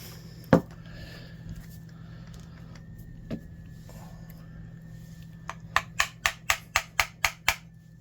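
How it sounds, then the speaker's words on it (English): Hammer tapping on a part of a Black & Decker 92E heavy-duty 7-inch industrial sander: a single sharp knock, a lighter one later, then a quick, even run of about nine metallic taps close by, with no talking. "A few taps, this thing is not been off of here in a long time."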